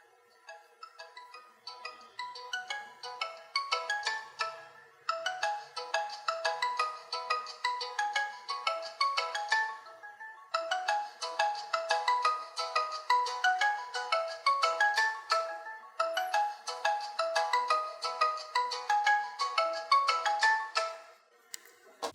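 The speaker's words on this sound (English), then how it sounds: "every time you get a call, ringtone volume starts with low volume and gradually increases" POCO F1 phone ringtone playing a repeating melodic pattern in bursts with short pauses, starting soft and growing steadily louder over about twenty seconds, no voices.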